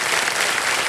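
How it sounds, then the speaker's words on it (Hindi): A brief burst of dense applause from the studio audience of the quiz show Kaun Banega Crorepati, a steady roar of many clapping hands with no voices. "तालियां बजती रही मीनाक्षी जी के लिए, तालियां, जोरदार तालियां।"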